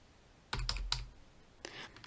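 Computer keyboard typing in short clustered bursts, a quick run of keystrokes followed by a pause and another brief flurry, close and clear with no talking.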